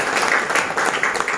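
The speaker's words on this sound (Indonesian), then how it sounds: "tepuk tangan buat kita semua" A room of trainees at a distributor training session breaks into applause, brisk clapping from a crowd that rises and falls in short, uneven surges, fairly loud and without speech.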